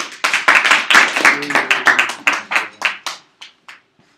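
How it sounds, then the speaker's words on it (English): A small group claps hands together in a presentation setting, starting dense and overlapping, then thinning into a few scattered, separate claps that fade out near the end. "You want to clap?"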